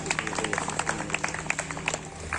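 Audience applause as a guest is welcomed on stage at a tourism department event at Bhimgarh Fort in Reasi, a steady patter of many hands clapping at moderate volume.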